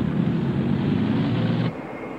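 A military aircraft drones past in a 1978 documentary about lasers, a loud, steady roaring engine rumble that abruptly drops to a quieter hum near the end, with no voices.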